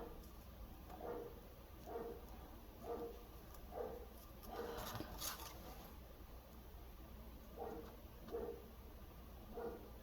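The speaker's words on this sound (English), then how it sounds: "Sorry about the dogs next door" Dogs next door bark repeatedly in short distant bursts, roughly every second or two, faint under low room noise with some nearby rustling.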